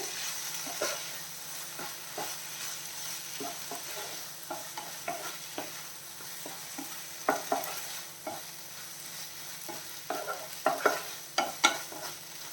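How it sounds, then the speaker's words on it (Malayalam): A spoon stirs sautéed tomatoes with fresh coriander and mint leaves in a pan for chutney, producing soft scraping clicks over a low, continuous sizzle. The strokes come irregularly, a few sharper knocks near the end, with no voices. "എല്ലാം കൂടെ ഒന്ന് നല്ല രീതിയിൽ മിക്സ് ചെയ്യാം"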